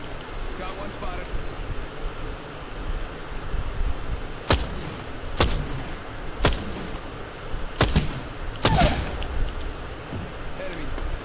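Gunfire in Apex Legends cracks out in sharp, separate bursts over a rumbling battle bed, a handful of loud shots spaced roughly a second apart, with a voice talking underneath.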